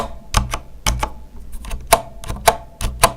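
The right shift key on a Corsair Strafe keyboard with Cherry switches is pressed repeatedly, giving a string of sharp, close clacks with springy rattle, some strokes louder than others, and no voices.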